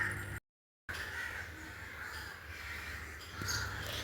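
A crow caws near a home where one has just snatched a fish, its harsh calls sounding over quiet outdoor background with a brief dropout of silence early on.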